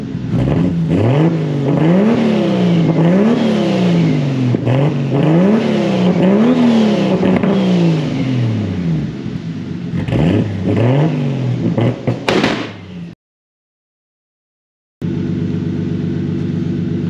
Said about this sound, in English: I'm gonna give it a few revs and then I'm gonna let y'all go.